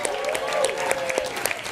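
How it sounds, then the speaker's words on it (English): Another round of audience applause for Ramon at a live dating game show, lively clapping with distinct sharp claps, a held musical tone beneath it. "Give Ramon another round of applause."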